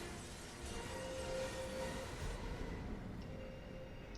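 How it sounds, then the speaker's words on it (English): A train rolls past in the video game Resident Evil 6, a faint, steady rumble with a brief metallic squeal tone in the middle, continuous and distant-sounding with no voices. "How did I not just get hit by a train?"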